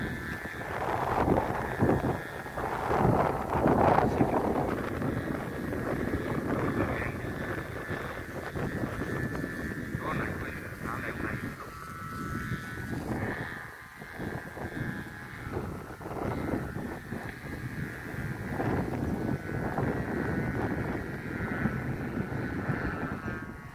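Strong wind gusts over an open rice field while a large two-metre kite flies high, a steady rushing roar with buffeting bursts throughout, fairly loud and continuous with no voices.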